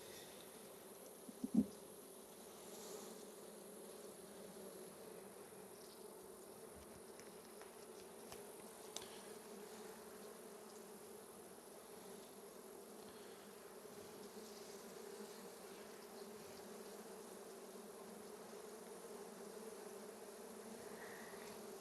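Honeybees in a queenless Langstroth hive hum in a low, steady, agitated buzz throughout, with a brief louder knock early on.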